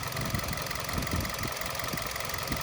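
A Hyundai Verna car engine with about 85,000 km idles with a low, steady rumble and faint rhythmic knocking, continuous and close, no voices.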